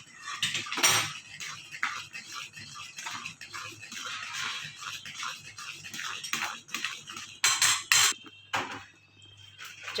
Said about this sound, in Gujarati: હજી આને ધીમા ગેસે મીડિયમ ગેસે હલાવતું જ રહેવાનું છે.